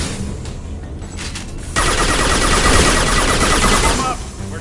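Sustained automatic weapons fire in Mass Effect 2 Legendary Edition: a dense, loud rattling barrage that erupts after quieter shots and runs for a couple of seconds before dropping away, with no talking.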